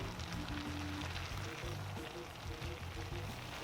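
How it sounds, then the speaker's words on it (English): Cabbage stew sizzling and bubbling in a pot as it is stirred, a steady broadband hiss and crackle running unbroken at moderate level, close by with no talk over it. "Stir it in."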